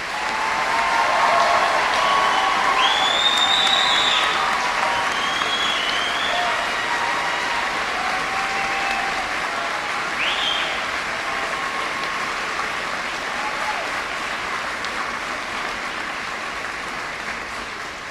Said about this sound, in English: Please join me in applauding Class 123.